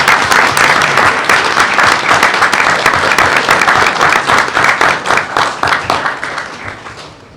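Applause fills a board meeting room as the audience claps steadily for several seconds and then gradually fades out.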